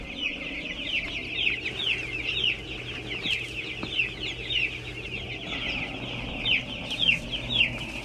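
Young chickens about two weeks old on a farm, a flock clucking and peeping continuously in overlapping bursts, fairly close, with no talk.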